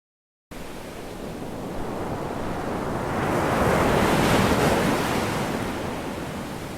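Ocean surf breaking on a sandy beach in the early morning, a steady broadband wash that swells to a louder peak midway and then eases, with some wind noise and no voices.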